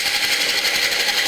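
A wood lathe spins as a tenon is cut on the workpiece, producing a steady, close, whirring drone with a faint scraping texture throughout the short stretch.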